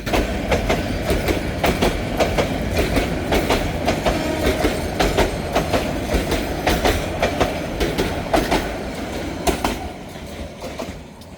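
A train pulls away from Melandah Bazar station, its iron wagons clattering and clanking over the rail joints in a steady, loud rhythm with sharp metallic knocks, fading slightly toward the end.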